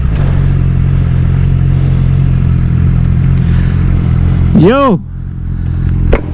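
A 2009 Suzuki GSX-R 600 motorcycle engine drones steadily and close while someone talks over it, then a passing vehicle sweeps by with a rising and falling pitch near the end.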